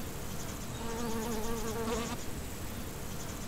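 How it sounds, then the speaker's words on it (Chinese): Bees buzz as they move among flowers, a steady droning hum that swells in the middle and fades after about two seconds, heard fairly close over quiet outdoor background. "善用蜜蜂在花间移动时会以腿部携带花粉的习性"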